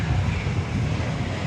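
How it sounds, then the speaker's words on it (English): American Airlines Airbus A319 arriving at DFW Airport, a brief burst of steady, fairly loud jet rumble with a low-pitched drone and no speech. "From American Airlines, arriving from Durango, this Airbus A319"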